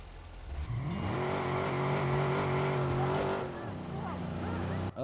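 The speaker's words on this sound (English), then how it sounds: "this car sounds rough." A rough-running car engine in the video game Watch Dogs revs up and holds a strained, buzzing drone for a few seconds before easing off, with game background noise around it.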